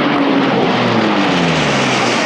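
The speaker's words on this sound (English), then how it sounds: "there was plenty of military aircrafts in the sky to wow the crowds" Military aircraft pass over an air show in the Wairarapa, a loud continuous roaring engine drone that fills the sky without pause.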